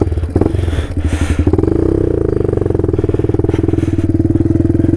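A dual-sport motorcycle engine drones loud and close while riding over rough terrain, with a steady rapid pulsing beat and some clatter, and no voices.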